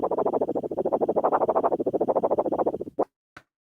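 Rapid, steady rattling from a Pioneer DDJ-REV7 controller platter while the Instant Scratch feature plays, a dense buzzing chatter for about three seconds, then two short isolated clicks close by.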